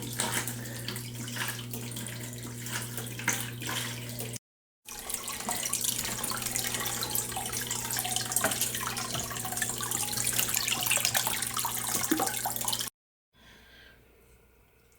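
Water runs steadily from a tap during a 10-gallon fish tank water change, a continuous close rush broken by two brief cuts, with no one talking.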